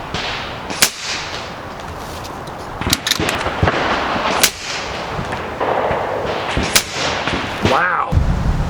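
Sharp shots from a Kral Puncher MEGA .22 air rifle fired outdoors on a breezy range, several distinct cracks spaced a second or more apart over a steady wind and background hiss.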